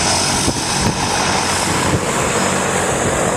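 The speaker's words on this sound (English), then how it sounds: "a hell of a lot of noise from this plane that is just about ready to take off" A propeller plane loaded with skydivers idles loud and close on the ground before takeoff, its engine drone steady and roaring throughout with no voices.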